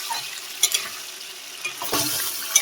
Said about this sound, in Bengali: দিয়ে ভালো করে আমি মাছটা নেড়ে নেবো।